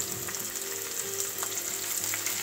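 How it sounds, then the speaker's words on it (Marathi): Finely chopped tomato sautés in a pan for a monsoon matki chaat, a steady close sizzle and crackle of frying with faint stirring, no voices. "टोमॅटो सुद्धा छान आपल्याला परतवून घ्यायचा आहे।"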